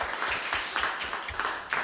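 Applause from a live radio show audience for a musician, a steady dense wash of many hands clapping close by for about two seconds.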